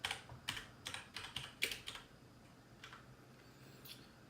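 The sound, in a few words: typing on a computer keyboard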